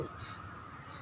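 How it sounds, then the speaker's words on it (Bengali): Crows caw outdoors in a calm green area beside a lake in New Town, a steady raspy calling held at a constant level over faint background bird chirps, with no talking. "পাখির কিচিরমিচিরগুলো শুনি"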